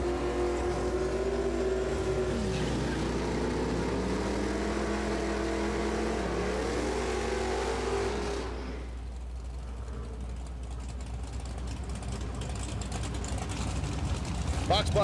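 Drag racing cars roar down the strip, a box body Mustang in the left lane, loud engine drone with rising and falling revs that cuts off abruptly, leaving a softer distant rumble, under a continuous low hum and announcer talk.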